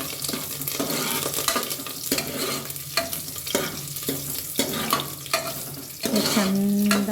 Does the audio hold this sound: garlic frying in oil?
yes